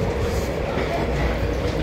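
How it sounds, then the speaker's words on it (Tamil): A Paris metro train rolls along with a loud, continuous rumble and rattle of the carriage, a steady low roar close by that fills the whole stretch. "இதுதான் ட்ரெயினு, சாரி மெட்ரோ"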